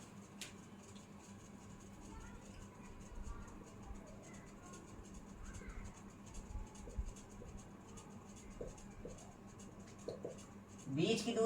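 Pen scratching on paper while a maths problem is worked out, a soft continuous scribbling close by, faint under a low background hum, ending with a brief louder rustle.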